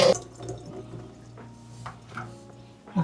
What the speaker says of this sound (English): You have to wash the rice at least 3 times.